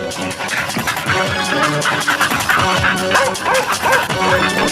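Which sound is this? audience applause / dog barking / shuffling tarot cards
dog barking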